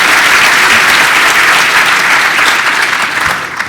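Dense, steady audience applause for U.S. Senator Marco Rubio at a formal address, loud and sustained throughout before easing slightly at the very end, with no talking over it.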